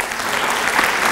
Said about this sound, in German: Klatschen Sie jetzt, bitte.